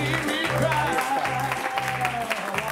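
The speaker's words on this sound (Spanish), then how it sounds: "fuerte aplauso para Sonia" Studio audience applause on a Spanish-language television show, loud and continuous, with music and voices running beneath the clapping.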